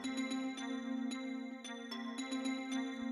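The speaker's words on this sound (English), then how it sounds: "So first things first is the bell. It's for the main melody line." A bell-like synth plays the main melody line of an amapiano beat, with short ringing notes struck in a quick, uneven rhythm over a sustained tone, quiet and without voices.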